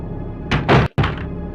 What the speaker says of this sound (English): Wait till the door opens.